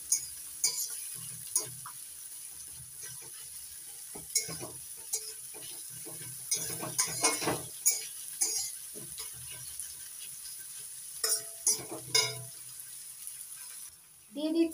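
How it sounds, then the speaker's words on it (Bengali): Chopped onions frying with white cumin in a pan for pea chicken keema curry, a soft sizzle broken by clattering stirring strokes, close up, with a little speech. "এবার দিয়ে দিচ্ছি পেঁয়াজ কুচি। পেঁয়াজটা একটু ভেজে নিচ্ছি।"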